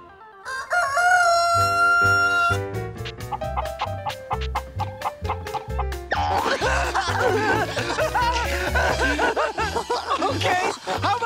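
A gong rings out, followed by a person loudly imitating a rooster's crow, with music and laughter-like sounds continuing underneath.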